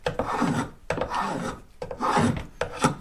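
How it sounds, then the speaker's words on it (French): A hand tool drawn repeatedly across wood held in a foot-clamped shaving bench, giving four rhythmic rasping strokes, close and clear with no talk. "je suis libre avec mes deux mains de tirer et de façonner le bois"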